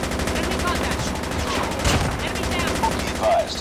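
Rapid automatic gunfire in a video game, a continuous burst of close shots with a louder flurry midway, with faint voices briefly under it.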